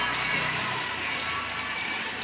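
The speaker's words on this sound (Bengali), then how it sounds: "কিন্তু পুরোপুরি থেমে গেছে, হালকা ছিটে ফোঁটা পড়ছে।" Light rain drizzles steadily outdoors after a heavy shower, a soft broadband patter with a few faint drop ticks and no clear talk.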